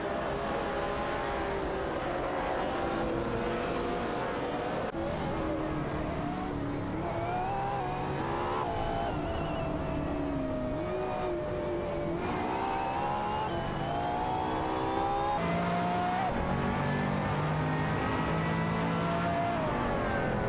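Race car engines in a simulated racing video game, overlapping revving and gear changes as cars battle for position, a dense continuous drone of rising and falling engine tones with occasional tire squeal.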